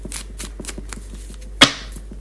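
Tarot cards riffled and shuffled in a quiet room, a run of soft rhythmic flicks ending in one sharp snap as the deck is squared.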